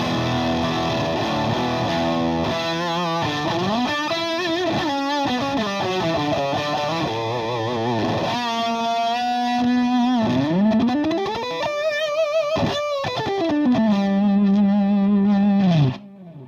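Electric guitar through a Danelectro Billionaire Cash Cow overdrive pedal with the bass turned all the way down, playing distorted bends and wavering sustained notes that slide in pitch, thin and loud, then cutting off abruptly.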